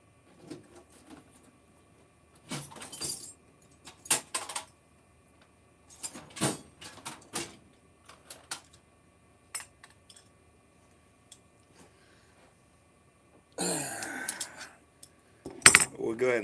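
Metal tools clink and rattle in scattered short bursts while a carburetor is taken apart, with quiet gaps between the sounds and a louder clatter near the end.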